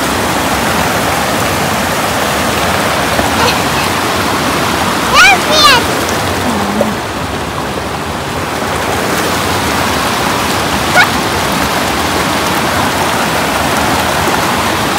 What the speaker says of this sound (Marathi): तर इथे आवाज येत असेल की नाही काय माहिती, पण पाणी इतकं छान आहे